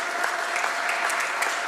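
Applause from an audience in a senate gallery welcoming a visiting delegation from Ecuador: steady, dense clapping from many hands, moderately distant, continuous throughout with no talk over it.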